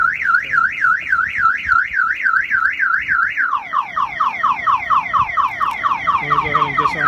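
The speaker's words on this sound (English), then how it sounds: "The alarm will fire off." A Jeep Liberty car alarm going off, loud and close, first a rapid warbling siren and then a faster chirping, descending pattern that repeats without pause.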